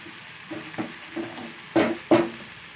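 Mango with jaggery and spices is stirred in a pan, giving a few soft scraping strokes followed by two louder scrapes over a faint, quiet sizzle.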